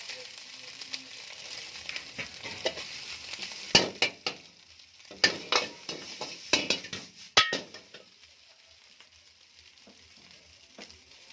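Chowmein noodles tipped into a hot pan for chicken triple noodles and stir-fried, with steady sizzling frying under repeated sharp clinks and scrapes of a utensil against the pan, loud close knocks clustered mid-way, then quieter sizzle alone.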